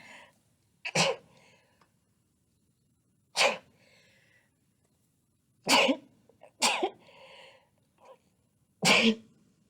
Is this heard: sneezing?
yes